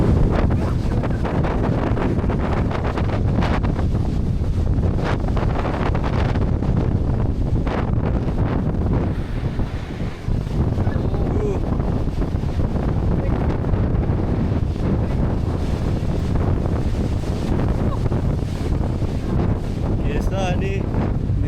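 Strong wind at the Malshej Ghat mountain pass buffets the microphone with a continuous loud roar and gusty rumble, barely dipping once midway, with voices faintly under it.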